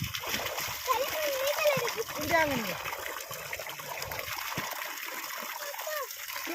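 Children splash and swim in water during a hot-weather bath, with continuous splashing and trickling close by while kids and adults talk and call out over it.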